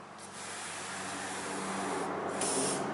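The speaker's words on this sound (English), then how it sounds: "Take it and spray it." Steady hiss of an aerosol can spraying lubricant onto a CNC machine's ball screw, running continuously for a few seconds, close by, with a faint mechanical hum underneath.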